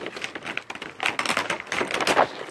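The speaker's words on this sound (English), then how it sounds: "I gotta use scissors" Crisp, irregular snips and crinkles of scissors cutting open plastic toy packaging for a Mickey Mouse figure, close by and busy, with short bursts and brief pauses and no talking.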